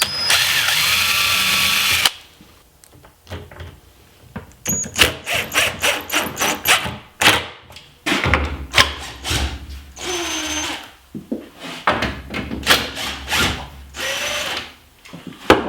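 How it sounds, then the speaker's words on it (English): A power drill with a VIX bit whirs in a long burst, then in a series of short, repeated bursts as screw holes are pre-drilled in cabinet doors, with a few squeaks and pauses between. "now I'll attach the doors to the cabinet, again using the VIX bit to pre-drill for the screws"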